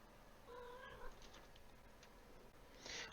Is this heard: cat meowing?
yes